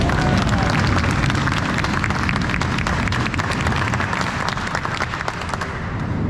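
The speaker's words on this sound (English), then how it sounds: "Let's give them a round of applause." An outdoor crowd at the Pacific Airshow opening ceremony applauds the U.S. Air Force Thunderbirds, a thick, continuous patter of many hands with a faint murmur of voices mixed in.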